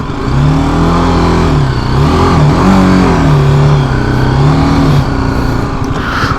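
A motorcycle on off-road bias tires pushes through deep sand, its engine droning loud and close throughout, the pitch rising and dipping with throttle changes under steady wind rush.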